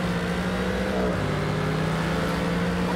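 A Mercedes-AMG GT3 race car in the Forza racing game holds a loud, steady engine drone that shifts pitch slightly about a third of the way through, with no voices.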